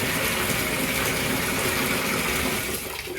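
A tap runs steadily, refilling a foot bath with hot water in a continuous close gushing hiss that stays loud and even throughout.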